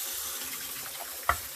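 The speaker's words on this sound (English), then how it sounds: "I'm going to rinse these with cold water, and then immediately I will drain it off again." Cold tap water runs briefly into a sink to rinse boiled eggs, a quiet continuous wash ending in a short, sharper splash.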